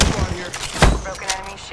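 Bursts of gunfire in Apex Legends, sharp cracks and a heavy boom standing out over game noise, with some voice under the shots.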